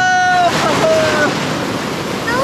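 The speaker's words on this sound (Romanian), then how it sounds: "vine valo" Surf breaks on a Spanish beach with stones in a steady broadband wash, loud and close, while children's voices and excited chatter ring out over it.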